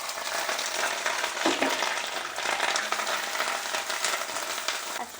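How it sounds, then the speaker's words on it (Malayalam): Chopped ginger fries in hot oil in a pan while it is stirred for a Kerala dish, giving a loud, continuous hiss and crackle with some brief scraping. "ഇനി ഞാനിതിലിടാൻ പോകുന്നത് കണ്ടേ ഇഞ്ചിയാണ്"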